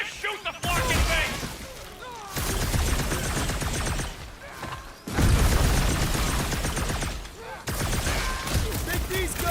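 Video game combat in Marvel's Guardians of the Galaxy, with loud sustained gunfire and crashing impacts in dense bursts, broken by brief pauses, while characters talk over the action.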